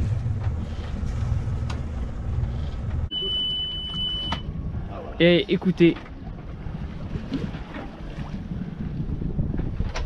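Low engine rumble cuts off on an Oceanis 40 sailboat, leaving open wind and water noise, with a brief spoken word and a short high tone.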